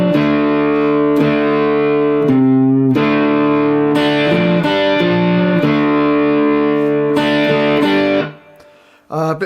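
Heavily distorted electric guitar playing a riff from Cyberpunk 2077, chunky sustained chords and single-note moves, loud and close, cutting off abruptly near the end.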